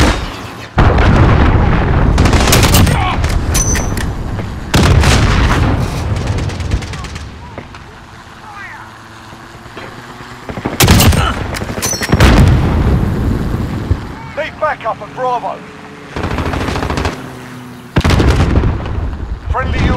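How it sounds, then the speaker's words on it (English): Cruise missile impacts and gunfire in the multiplayer shooter Call of Duty Modern Warfare, with several loud booming explosions separated by quieter gaps of rumble and scattered shots, and game voice callouts between blasts. "Allied cruise missile away!"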